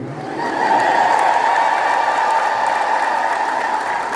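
An audience ululates together in a loud, sustained high trilling chorus that rises within half a second and carries on steadily for about four seconds, with some crowd noise beneath it.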